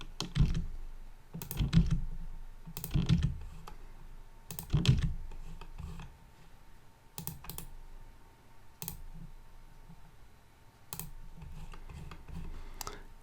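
Computer keyboard used for copy-and-paste shortcuts, sharp clustered key clicks in irregular bursts, close and clear against a quiet background with no speech.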